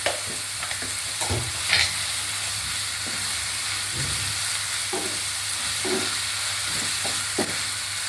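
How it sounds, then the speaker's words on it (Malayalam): A tomato mixture seasoned with salt and turmeric sizzles in a frying pan while a spoon stirs it, making repeated close scrapes and clacks over a steady hiss. "ഇനി ഒരു മിനിറ്റും കൂടി ഒന്നിങ്ങനെ ജസ്റ്റ് ഇളക്കിയിട്ട് ഒന്നിങ്ങനെ ആക്കി വെച്ചാൽ മതി"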